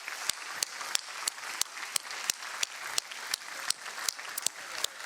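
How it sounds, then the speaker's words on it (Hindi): Audience applause for a child singer on a Hindi kids' singing show, a bed of group clapping punctuated by loud, sharp, regularly spaced claps close up, roughly three per second, keeping a steady rhythm throughout. "जोरदार तालियां हो जाए तनिष्का के लिए"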